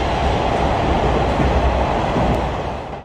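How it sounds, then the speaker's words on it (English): A metro train in motion, a loud, steady rumbling roar of wheels and carriage with faint clatter, continuous and close, fading slightly at the end. "Riding in this metro looks like something I'd love to try next chance I get"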